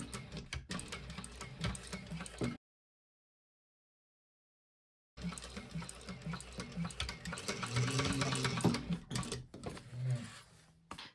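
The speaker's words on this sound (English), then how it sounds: "We're going to sew all the way across, back stitching at the beginning and end using the full seam allowance" A home sewing machine runs stitching a seam across a fabric wristlet, a soft, quiet mechanical whir in two short runs separated by a gap of silence, close by and without talk.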